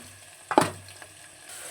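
Cucumber pieces are tipped into a pan of fried onions and curry leaves for a tomato curry, giving a short, loud sizzling burst that settles into a faint, close frying hiss.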